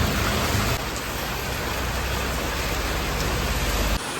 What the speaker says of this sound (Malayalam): ഉച്ച തൊട്ട് തുടങ്ങിയ മഴ ഇതുവരെ നിന്നില്ല.